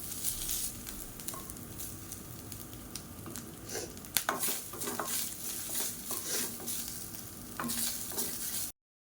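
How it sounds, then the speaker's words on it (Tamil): Grated coconut sautéed in hot ghee for pidi kozhukattai, a steady close sizzle with repeated scraping and stirring strokes of a spatula against the pan, no voices. "இப்போ தேங்காயை சேர்த்து நல்ல வாசனை வர அளவுக்கு வதக்கிக்கலாம்"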